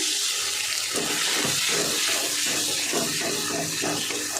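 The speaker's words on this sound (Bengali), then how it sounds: "মশলার বাটিটা ধুয়ে একটু জল দিয়ে দিলাম।" Running water from a tap splashes steadily into a small spice bowl as it is washed and filled, loud and close, continuous hiss with faint clinks, no talk.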